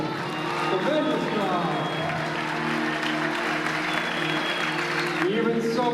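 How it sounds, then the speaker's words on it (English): An audience at a ring fight event breaks into loud, sustained applause and crowd noise after the bout, clapping continuing under raised voices for the whole stretch. "Big round of applause."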